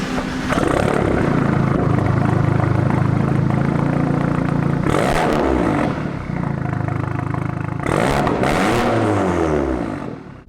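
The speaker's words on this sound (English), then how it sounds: "I've never been the biggest fan of 4-cylinder exhaust in general" Exhaust of a VW/Audi A3 on the MQB platform with a four-cylinder engine and non-valved system: a steady, booming idle broken by two sharp throttle blips that quickly fall back.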